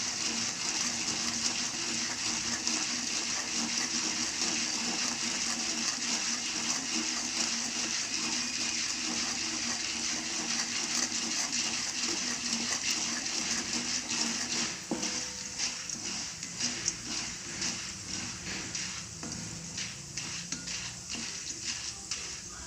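Corn kernels heat in a pan on full flame for popcorn, a steady loud sizzling hiss, with faster irregular crackles and pops building toward the end.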